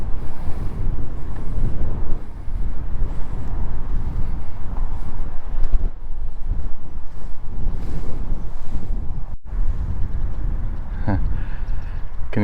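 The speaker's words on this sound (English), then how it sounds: "Windy day." Strong wind buffets the microphone in a steady roar, with gusty low rumble throughout and no clear voices.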